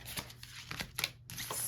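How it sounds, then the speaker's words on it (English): Tarot cards being picked up and shuffled, a run of close papery flicks and soft slaps with a brief pause partway through. "It's hard for me to pick up these cards."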